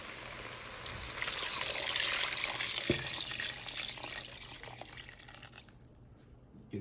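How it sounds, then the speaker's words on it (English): Water pours into a cooking pot of tomatoes for Chinese beef noodle soup, a hissing splashing stream that swells, holds steady, then tapers off near the end, close and alone. "All right, let's add our water."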